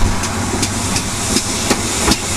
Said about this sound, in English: a double-headed train comes into the station